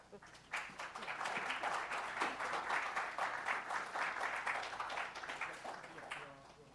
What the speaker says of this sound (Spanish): nosotros la vamos a premiar con un aplauso y un agradecimiento